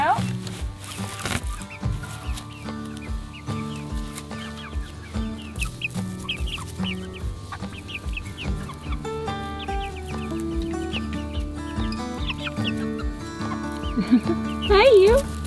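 Chickens cluck and squawk repeatedly inside a coop, some of them young chicks, in busy overlapping bursts close by, while people speak softly over the noise.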